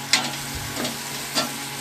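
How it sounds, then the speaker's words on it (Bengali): Chopped tomatoes are stirred through hot oil in a frying pan for egg tadka, a steady close sizzle broken by a few scraping stirs of the spoon. "এবার এর মধ্যে টমেটোটা দিয়ে দেবে, টমেটো দিয়ে আবার নাড়বে"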